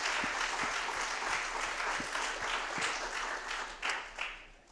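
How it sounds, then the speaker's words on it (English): An audience at the Bitcoin Atlantis 2024 conference claps for an absent event organizer, moderately distant applause with a few louder individual claps rising near the end, under faint low thumps. "So can we clap for him?"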